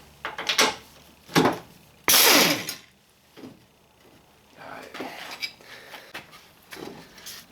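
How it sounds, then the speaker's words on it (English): Sharp metallic clanks, ratchet clicks and one loud grinding burst come from removing the front strut bolts on a 2002 Mitsubishi Lancer, scattered close-up tool and part noises with quieter pauses between them. "we're going to remove these 3 bolts and then the strut should drop right out"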